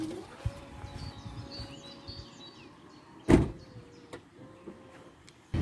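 Electric tailgate on a BMW X4 motoring shut, a steady faint motor whine running for several seconds, then a sharp loud latching thunk, followed by a second quieter motor hum and small clicks, with faint birds chirping in the background.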